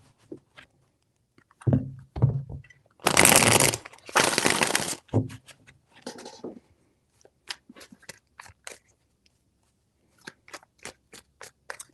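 Tarot cards are shuffled in three bursts: a few quick riffles, then two longer dense rushes of card flutter close up, followed by scattered light taps and clicks as the deck settles.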